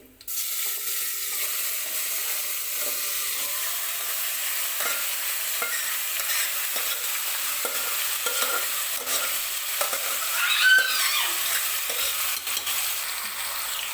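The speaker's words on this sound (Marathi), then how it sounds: "मॅरिनेट केलेलं मटण जे आहे ती मी कुकरमध्ये टाकून घेते" Marinated mutton sizzles steadily in hot oil with cumin seeds inside a pressure cooker, a continuous loud hiss with occasional scrapes and stirring clinks, no voices.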